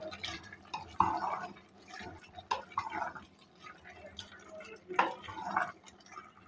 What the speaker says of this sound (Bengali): আবারও নেড়ে দিচ্ছি।